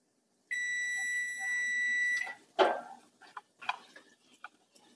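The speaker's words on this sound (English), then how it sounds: "Timer went off." A kitchen timer beeps steadily for about two seconds while BBQ sauce simmers, then stops, followed by faint clatter and small kitchen sounds.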